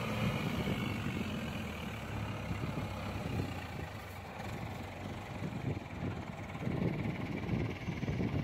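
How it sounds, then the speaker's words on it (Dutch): A farm tractor pulling a bale carrier approaches outdoors, heard as a faint, steady low engine rumble mixed with wind noise across the whole stretch. "Daar komt mijn zoon aan met de trekker."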